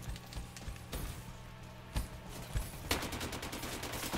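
Gunfire from a DLC weapon in Black Ops 3: rapid automatic bursts with sharp close reports, faint overall, ending in a fast sustained string of shots.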